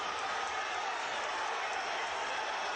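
Boxing crowd on its feet in the theater at Madison Square Garden, a steady wash of cheering and applause heard from a distance, broad and constant with no single voice standing out.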